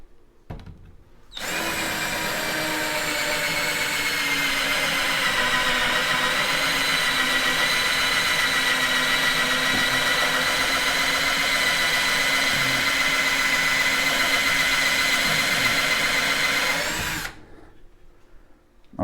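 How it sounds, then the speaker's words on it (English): A Pulituo cordless drill running in forward at full torque with its largest bit, a loud steady whine that starts abruptly, holds for about fifteen seconds with slight pitch dips under load, then stops. "we're just going to be using our largest drill bit and we're going to be seeing how this works"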